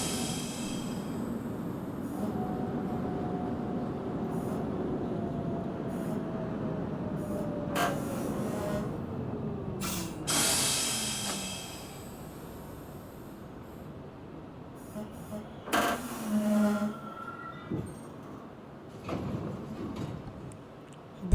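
A New York subway 6 train, Brooklyn Bridge bound, runs between stations with a steady rumble and a falling whine as it slows, then brake squeals and a few tonal beeps near the end.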